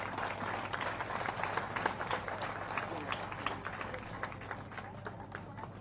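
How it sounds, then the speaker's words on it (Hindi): Dense, continuous applause from an audience at a Sachin Tendulkar event in Bastar, India, steady and moderately loud throughout with many overlapping claps. "आप तालियां बजा सकते हैं, ये बहुत इंपॉर्टेंट चीज़ है।"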